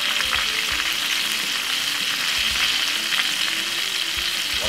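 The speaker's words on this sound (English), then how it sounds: "And now we're gonna put it straight in the deep fry" Escovitch fish deep frying in hot oil, a dense, steady hiss and crackle that holds loudly and close throughout with no voices over it.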